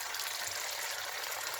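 Steamed tomato, onion and habanero pepper frying in a soup pot for a Nigerian vegetable soup, giving a steady, even hiss of sizzling, with a brief louder splash or clatter at the very end.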